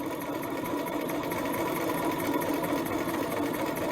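A sewing machine stitching steadily around a patch pocket, a close, continuous even whirring hum with a fast regular needle rhythm and no pauses.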